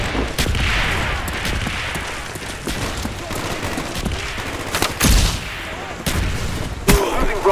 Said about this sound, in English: Mortar team coordinates received.